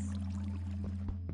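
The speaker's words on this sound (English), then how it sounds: "There must be a water cave." Flowing water in a Minecraft cave, a soft continuous trickle over a steady game hum, with a few brief splashy pulses near the end.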